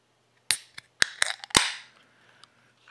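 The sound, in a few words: beer bottle or can being opened with a pop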